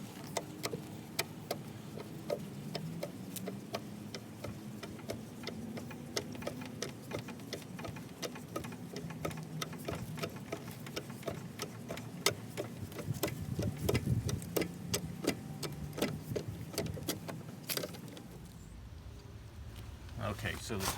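A car jack is cranked down to lower a car onto its freshly mounted spare tire at the roadside, producing a long run of quick, regular ratcheting clicks that stop near the end.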